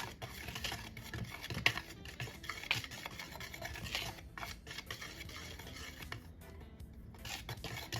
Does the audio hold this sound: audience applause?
no